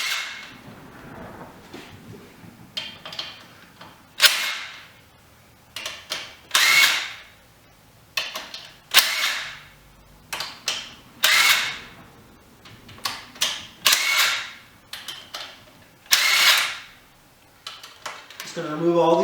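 Repeated short bursts of a power tool backing out the bolts on a fuel injector rail of a Mitsubishi 3000GT/Dodge Stealth, each whir lasting about a second with pauses and small metallic clinks between, close up.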